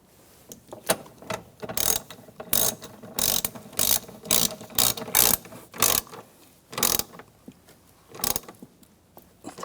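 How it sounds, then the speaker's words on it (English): A ratchet wrench tightens the valve cover bracket bolts on a 2008–2013 BMW 328i xDrive, giving a series of sharp, close clicking bursts in uneven rhythm with short pauses between strokes. "get the bolts started, and the bolt inside here, and tighten these down"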